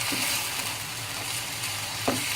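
Minced meat (keema) with green onion sizzling steadily in a pan, a continuous close frying hiss with a brief spatula scrape near the end, no talking.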